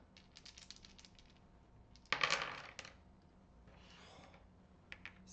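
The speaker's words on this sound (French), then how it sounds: "C'est quoi ce jet de dés?" Dice rattle and clatter across a table during a TIME Stories board game, one sharp, dense burst of tumbling clicks followed by softer scattered taps, close by and on their own.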